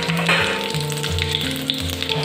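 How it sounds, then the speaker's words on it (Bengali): Whole cumin seeds, a bay leaf and one dried red chilli crackle and sizzle in hot oil, a bright steady hiss running under a background melody for a couple of seconds. "তো তেলটা গরম হয়ে গেছে, এর মধ্যে আমি দিয়ে দেবো গোটা জিরে ফোড়ন, তার মধ্যে দিয়ে দেবো তেজপাতা আর একটা শুকনো লঙ্কা।"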